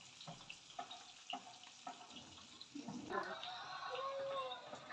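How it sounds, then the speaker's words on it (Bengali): Fish coated in salt, chilli and turmeric are dropped into hot oil, setting off a soft, steady frying sizzle after some faint handling noises and brief voice sounds. "গরম তেলে ছেড়ে দিলাম।"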